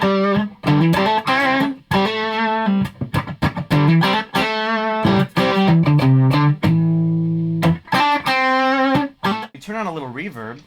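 Bridge pickup of a Squier Sonic Strat electric guitar, played as a lively run of picked notes and short chords, close and loud, with quick gaps between phrases and a wavering bent note near the end.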